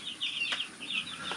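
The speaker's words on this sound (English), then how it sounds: "So first stop is our meat birds. They are just a few days old" Meat bird chicks a few days old in a brooder, about a hundred of them, give high, thin cheeping calls that overlap steadily through a quiet room, with no talking.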